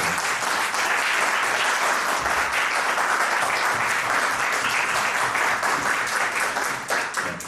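Audience applause at an event on Ivo Andrić, a dense sustained burst of clapping from a large crowd that holds steady and tapers slightly at the end.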